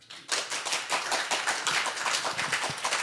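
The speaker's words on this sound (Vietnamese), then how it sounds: "xin dành cho họ một tràng pháo tay để tán thưởng" An audience at a church worship music gathering applauds, a short burst of dense, even hand clapping that starts abruptly and holds steady, moderately faint with no talking.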